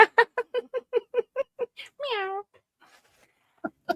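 A cat named Ketchup meows in a quick train of short chirpy calls, then one longer drawn-out meow, followed by a pause and two brief calls, close and clear with no talk.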